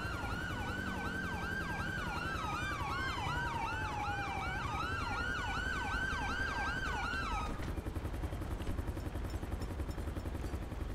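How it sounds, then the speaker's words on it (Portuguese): Police sirens wail in the GTA 5 video game during a SWAT hostage rescue at an abandoned motel, several overlapping loud rising-and-falling tones sweeping rapidly for about eight seconds before cutting off, leaving a steady engine-like rumble. "Agora vambora, o pessoal já ligou a sirene."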